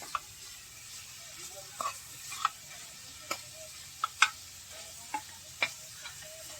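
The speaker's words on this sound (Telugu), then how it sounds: "గిడ్డ తీసుకొని ఇప్పుడు మనం ఇట్లా కొంతసేపు ఇట్లా తిప్పాలి" Mutton curry being stirred in a pan with a ladle, scattered metallic clinks and scrapes every half second or so over a low, soft sizzle, close and alone without speech.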